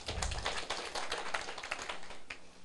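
An audience at a lecture clapping hands: a steady patter of many claps at moderate distance, fairly even and continuous, fading slightly near the end.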